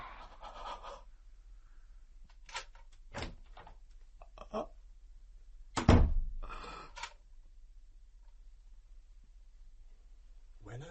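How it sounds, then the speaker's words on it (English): A door closing in a darkened room, heard as a single heavy thunk with a short rumble midway through, amid faint shuffles and scrapes in an otherwise quiet space. "When a door closes in a darkened room"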